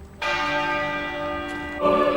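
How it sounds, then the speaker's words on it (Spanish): A church bell at Windsor tolls for Queen Elizabeth II's burial: one loud, ringing strike with a long humming decay, then a second strike near the end, heard alone without talk. "El ataúd ha entrado por una puerta lateral de la abadía, que ha hecho sonar 96 campanadas"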